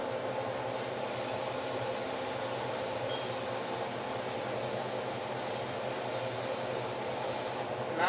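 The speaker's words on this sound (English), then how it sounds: "I'm gonna spray my skillet with some non-stick cooking spray." A steady, continuous aerosol hiss of non-stick cooking spray onto a skillet runs for several seconds at a constant level, fairly close, with no talking.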